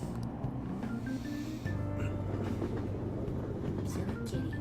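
Train riding on rails in the Persona 5 video game: a steady, continuous low rumble of wheels and carriage with faint clicks, holding evenly throughout with no talk.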